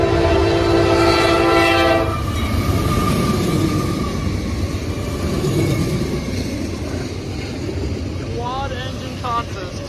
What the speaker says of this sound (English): I can't even see what kind of train it is.